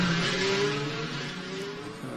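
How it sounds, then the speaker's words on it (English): A BMW safety car leading GT race cars around the Macau track under a full course yellow, a steady engine drone and whir passing at moderate distance, no talk. "Still the lights are on the BMW safety car, leading the field around."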